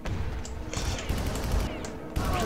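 Flashbang blast and bursts of gunfire in the Far Cry video game, a dense run of sharp cracks and crashes over rumbling background, with a player speaking faintly.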